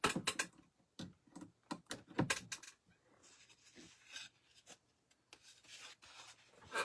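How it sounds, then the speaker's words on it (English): Fingers rub dried glue strings off a wooden bee craft made from wood shims, giving soft, close, scratchy rasps in short irregular bursts with brief pauses, no voices. "let me take this and get all the glue strings off."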